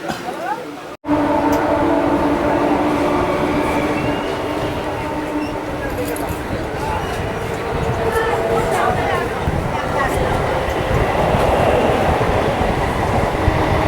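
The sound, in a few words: Kolkata local train departing station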